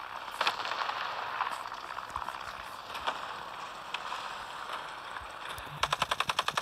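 Gunfire in the War Thunder combat game, with scattered shots over a steady mechanical engine drone, ending in a quick rapid burst of machine-gun fire, moderately loud with no talk.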